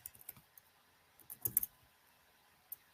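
Typing on a computer keyboard, scattered faint key clicks with a brief cluster of louder taps near the middle, quiet and close.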